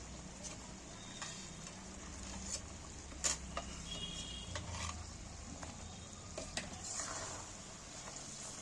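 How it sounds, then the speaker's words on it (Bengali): Okra is tipped into a pan of frying spice mix, producing a quiet, continuous sizzle broken by scattered taps and scrapes of a utensil against the pan. The sound is close and faint, with no talking. "এইবার আমি ঢ্যাঁড়সগুলো তুলে দিচ্ছি এর মধ্যে"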